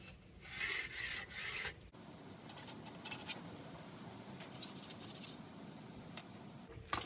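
A metal file rasps a burr off metal during a compact door-seal fitting, giving a few loud, close scraping strokes followed by fainter intermittent scratching.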